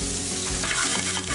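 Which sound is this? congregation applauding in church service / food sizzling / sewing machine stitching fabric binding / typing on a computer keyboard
food sizzling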